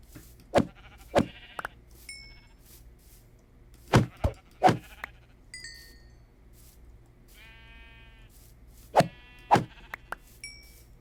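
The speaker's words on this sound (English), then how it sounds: "Luckily, there are plenty of white sheep." Several short, synthetic-sounding sheep bleats in Minecraft, spaced irregularly with quiet gaps, plus a few faint electronic tones.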